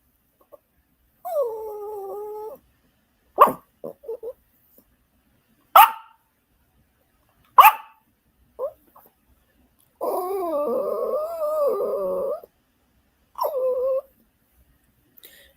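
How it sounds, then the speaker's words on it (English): A pet dog whines and cries for taco pie in a quiet room, long high wavering whimpers broken by several short sharp barks and yips, close and alone with no talk. "I hear my dog crying because she wants my taco pie"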